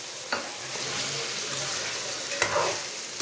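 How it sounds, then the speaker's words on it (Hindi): Small tomatoes drop into chicken frying in a pan for a spicy aloo chicken, setting off a steady close sizzle broken by a few sharp stirring scrapes. "तो अब डाल देंगे ये टमाटर"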